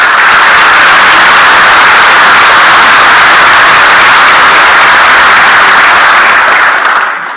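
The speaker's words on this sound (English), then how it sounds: "And let's give a round of applause." Convention-hall audience at Denver Comic Con 2018 breaking into loud, dense applause, a saturated roar of clapping that holds steady and then begins to thin out at the very end.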